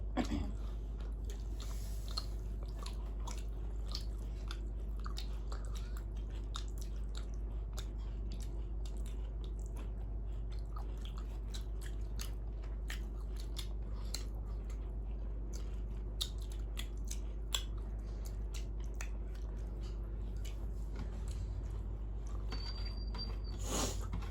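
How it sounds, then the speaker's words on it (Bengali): Someone eating a meal of rice with katla fish curry, aubergine and potato, soft wet chewing and small bites repeating steadily at close range under a low background hum. "খেতে বারণ করেছে তবু লোভ করে খেয়ে নিচ্ছি"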